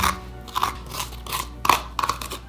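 Seeds and stringy fibrous strands scooped from a pumpkin in repeated close, moist crunching scrapes, about five strokes in a steady rhythm with no talking.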